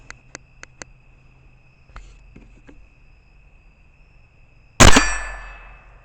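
A gun fires at steel plate and bowling pin targets: a few light ticks and clicks, then a single loud, close shot with a ringing, slowly fading tail.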